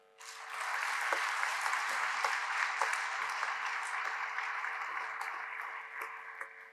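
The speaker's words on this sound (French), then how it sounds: "Je crois que vous pouvez vous applaudir pour cette réussite." An audience at a graduation ceremony applauds, a dense, steady burst of clapping that starts abruptly, holds for several seconds and tapers slightly, heard alone without speech.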